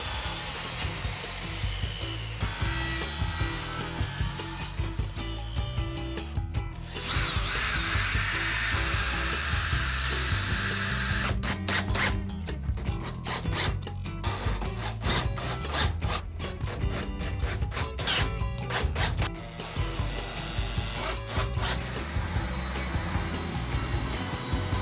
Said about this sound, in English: And then we're on to sanding after that.